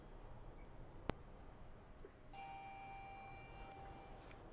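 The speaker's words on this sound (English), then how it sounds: "Keep hearing those beautiful chimes" Elevator arrival chimes ring out as a sustained two-tone ding that holds steadily after a sharp click, fairly faint over a low background hum in a quiet lift lobby.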